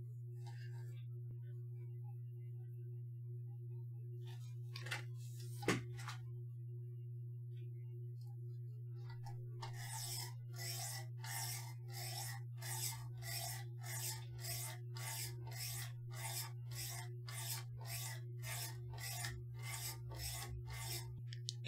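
Knife blade stroked against a 400 grit diamond stone on a Work Sharp Precision Adjust Elite, first with a few scattered touches, then about twenty even, rhythmic rasping strokes over a steady low hum.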